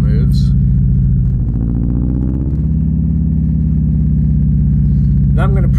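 A car engine in the Outerra simulation hums steadily with a low, continuous rumble, the pitch shifting slightly as it drives, loud and unbroken throughout.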